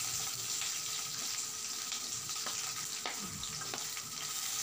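Chopped small onions, fennel, cinnamon and chana dal fry in hot oil with curry leaves for channa masala curry, a soft continuous sizzle and crackle with occasional faint stirring clicks, no voices.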